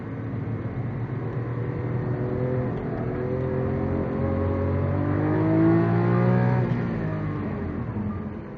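Lamborghini Aventador engine accelerating hard in second gear on the Vallelunga track, a loud sustained rising howl with climbing revs, alone with no talk.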